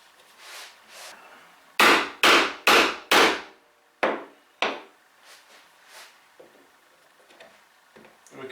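A chisel is driven into wood to chop a mortise, heard as a close run of four hard mallet strikes in quick succession, then two more single blows and softer levering knocks, with no talking.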